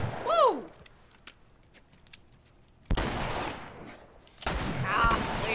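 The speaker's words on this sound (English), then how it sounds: "You just ate a shotgun blast." Heavy gunshots boom in The Last of Us game: a faint whistling tone first, then two loud, close blasts a couple of seconds apart, each trailing into echo.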